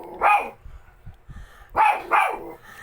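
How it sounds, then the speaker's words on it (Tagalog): A dog barks sharply nearby, one bark, a pause, then two quick barks in a row. "Ang ingay ng doggy ko."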